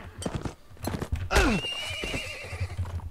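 A horse in the video game Mount & Blade gives a loud, close whinny that rises and then falls in a wavering tail, with clip-clop hoof sounds and scattered game noise around it.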